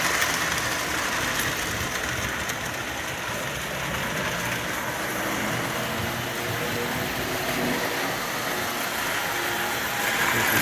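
A 1946 Lionel O-gauge postwar locomotive runs on tubular track with conventional control, a steady loud motor whir and rumble lasting throughout without break.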